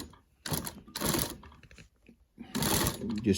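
A sewing machine stitching around upholstery fabric for a custom truck seat, running in three loud bursts separated by brief pauses, up close with no talk.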